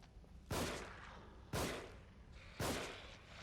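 Explosive and burn shots fired in The Evil Within against a fast, big enemy: three heavy, booming blasts about a second apart, each with a loud sudden onset and rumbling decay.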